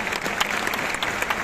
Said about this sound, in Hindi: तो इनके लिए तालियां